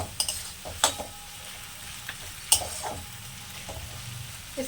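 Spice masala for tengra fish curry fries on a low flame, a soft steady sizzle broken by a few sharp clinks of a spatula scraping the pan, with no talk.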